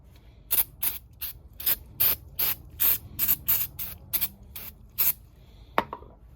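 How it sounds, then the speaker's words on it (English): Rust-Oleum spray paint hissing from the can in about a dozen short, sharp bursts, close and fairly evenly spaced, followed by a faint click and rattle at the end. "now let's go ahead and spray this one again."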